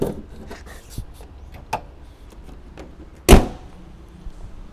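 A 2010 Honda CR-V 2.0 door is handled: light clicks and small knocks lead to one loud latch thunk midway, close by, over quiet room tone.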